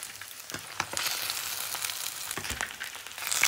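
Fish frying in hot oil in a pan, a steady close sizzle with scattered sharp pops and crackles, no voices.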